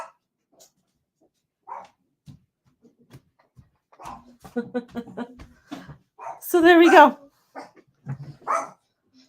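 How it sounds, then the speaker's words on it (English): A female dog barks indoors in a house, a handful of sharp barks and yips rising to a loud, sustained burst near the end, mixed with people talking nearby. "She doesn't like anybody coming into the house, so now she's gonna bark."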